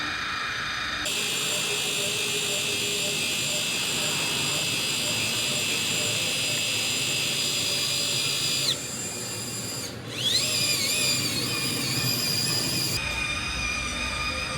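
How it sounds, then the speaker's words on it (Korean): An HPC hydraulic auto-leveling system on a caravan runs its electric motor in the front outrigger to lift the caravan's front, giving a steady, loud whining hum that holds for several seconds, dips briefly and then resumes. "전기 모터를 통해서 어, 카라반 앞쪽을 번쩍 들어 올려주게 됩니다"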